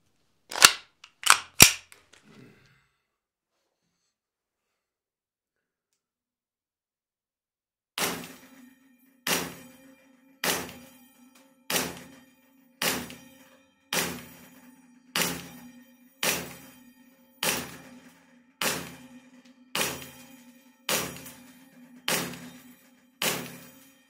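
A GHK Glock 17 Gen 3 airsoft pistol with an aluminium CNC slide firing at a 15-metre range: a couple of quick sharp cracks, a pause, then a steady run of about twelve evenly spaced snappy shots with metallic ringing.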